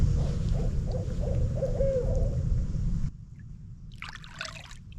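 An owl hoots in the woods beside a river during a kayak trip, a soft hoot heard once after water noise and paddling sounds cut away to quiet.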